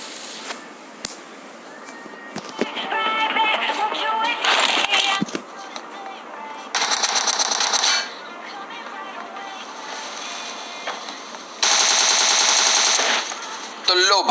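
Bursts of automatic gunfire in a PUBG match come in several sustained rattling volleys, loud and close, with someone talking excitedly over the game sounds.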